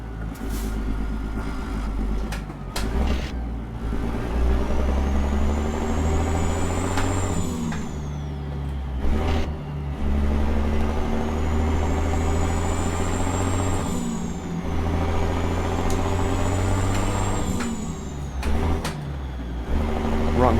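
A Ford LTL truck in American Truck Simulator runs with a deep, steady diesel drone, climbing in pitch, then dropping as it shifts through auxiliary gears three times, with a faint rising whine and occasional hiss of air.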